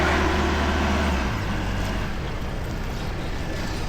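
A forklift drives and lifts cargo while its diesel engine hums steadily nearby. The engine pitch drops partway through as the load is handled, and no voices are heard.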